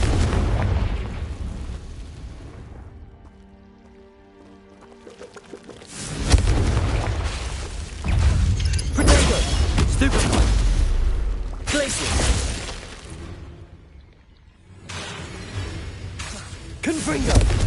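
Confringo fire spell explosions in Hogwarts Legacy: several loud, rumbling blasts spaced a few seconds apart, with quieter whooshing lulls between them.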